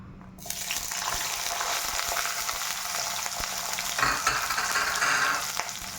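Halved small onions frying in hot oil for a chicken and egg burji, a steady close sizzle with occasional stirring scrapes and no speech.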